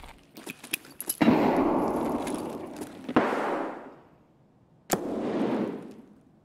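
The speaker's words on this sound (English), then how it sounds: "Throwing a nade." Grenade blasts in Escape from Tarkov, three sharp, loud bursts, each followed by a rumbling decay, with small clicks and rattles before the first.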